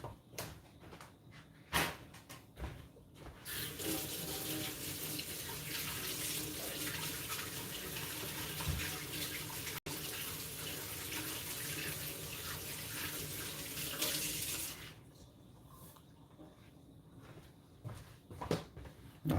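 Tap water runs steadily into a sink while crappie fish fillets are washed, a loud continuous close rush lasting most of the stretch, with a few knocks and handling clatters before and after the flow.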